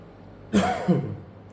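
A single close, throaty cough in two quick bursts, then quiet.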